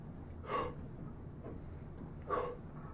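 A voice imitates a long, actively drawn-in inhaling yawn, heard as two separate breathy pulls spaced about two seconds apart, close and fairly quiet, with a softer breath between them.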